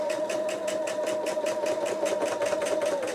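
A sewing machine runs steadily, stitching down quilt blocks for a chandelier quilt, its close, even mechanical chatter holding a fast regular rhythm throughout with no pauses.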